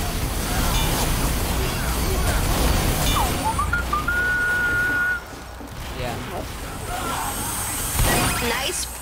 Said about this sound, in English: Nice whistle.